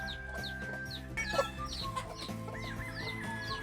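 Hens clucking in a steady, busy chorus on a gamefowl breeding farm, with soft repeated calls over a constant farmyard hum and occasional chirps from other birds.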